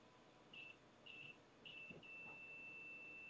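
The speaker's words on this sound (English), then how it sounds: "It's only a faint beep, but it'll do." A capacitance and ESR meter gives a faint, thin continuity beep: three short tones followed by a sustained one, quiet and alone.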